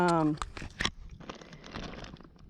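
A paper map slipped into a plastic bag crinkles and rustles in close, uneven bursts on a kayaking outing to the Cuyuna mine pit lakes, after a short spoken sound at the start.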